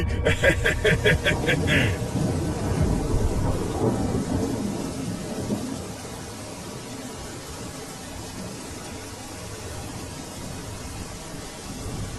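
Cartoon rain with thunder: deep rolling thunder rumbles over a constant hiss of rain, loud at first then easing slightly, with a brief bright tonal flourish at the start.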